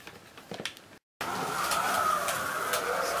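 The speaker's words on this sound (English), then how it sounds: "this is my test drive for the Ferrari 458 Italia Carrera Evolution slot car" Carrera Evolution Ferrari 458 Italia slot car running on a plastic track, a steady high electric motor whine with faint clicks, preceded by brief tapping and a short gap of silence.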